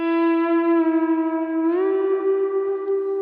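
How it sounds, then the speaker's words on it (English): Lap steel guitar played through a Black Hole Symmetry delay and reverb pedal: one sustained, sliding note shimmers in long echoes and wash, bending upward partway through, loud and alone. "This black hole symmetry thematically felt like such a good pick for the lap steel because it's a vibey delay primarily"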